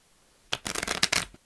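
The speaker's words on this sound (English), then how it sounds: "You shuffle them cards there." A deck of playing cards is shuffled close by in a quick riffling burst lasting under a second, crisp and fluttering after a brief silence.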